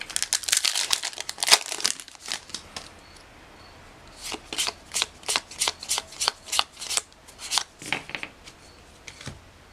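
Magic: The Gathering Hour of Devastation booster pack cards handled up close: crinkly rustling at first, then a steady run of about a dozen crisp, rhythmic flicks as cards are thumbed through one by one.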